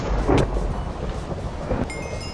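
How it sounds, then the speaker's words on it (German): A lightning strike in Minecraft gives a broad, rumbling crack that swells and rolls on steadily, loud and dense, with no voices over it. "Lass ihn nochmal einen Blitz abfeuern hier."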